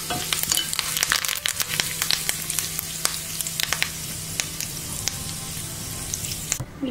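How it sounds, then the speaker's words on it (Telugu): A tempering of lentils, mustard seeds and curry leaves sizzles in hot oil for an amla and green chilli chutney, a close steady crackle with frequent sharp pops and stirring scrapes and no talking. "తాలింపు ఇప్పుడు మనకు వేగిపోయింది."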